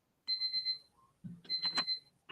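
A medicine reminder alarm beeps in two bursts of rapid, high electronic tones, close and clear, with a faint voice briefly between them.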